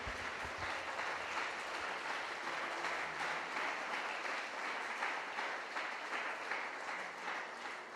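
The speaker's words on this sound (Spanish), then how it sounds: "¿Usted cree que Dios merece un aplauso?" A church congregation applauds during a service, steady and even for several seconds, filling the room at a moderate, somewhat distant level with no talk over it.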